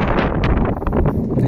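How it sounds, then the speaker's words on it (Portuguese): Strong outdoor wind buffets the microphone, producing a loud, continuous low rumble with gusty surges throughout. "É impossível gravar com esse vento."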